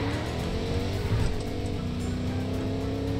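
A car driving in the video game Fortnite, its engine a steady low drone with sustained tonal hum throughout, loud and continuous with no talk over it.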